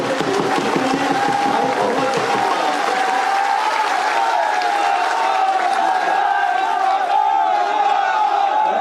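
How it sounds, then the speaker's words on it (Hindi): A large crowd at a political rally in Ladnun claps and cheers loudly, a thick continuous roar of applause with shouts and whoops rising over it, sustained for several seconds with voices mixed in. "जोरदार तालियां बजाइए मुकेश भाकर जी के लिए"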